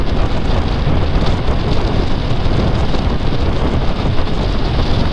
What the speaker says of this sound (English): It's only the left hand side that I get wind noise through, and that's where the slider for the visor is.